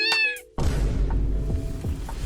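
A cat gives a single clear, loud meow at the start, followed by a sudden burst of loud, noisy background sound that continues to the end.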